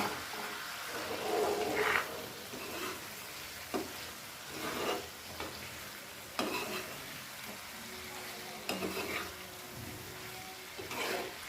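Chicken pieces sizzling in a hot pan for doi chicken curry, a low steady frying hiss broken by repeated stirring scrapes and knocks, fairly faint and close, with no talking over it.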